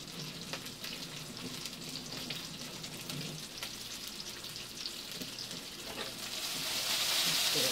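Mushrooms frying in a pan and starting to burn a little, giving a steady crackling sizzle with occasional pops and stirring, growing into a louder hiss toward the end.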